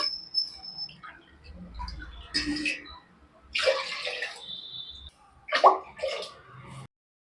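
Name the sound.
water poured into a pot for cooking rice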